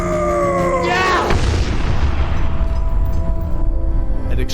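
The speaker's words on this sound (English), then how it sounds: "An explosion of green light erupted in the room." A sudden deep boom of a magical green-light explosion bursts out after a brief rising tonal whoosh, followed by a loud sustained rumble and crackle that fills the rest of the moment.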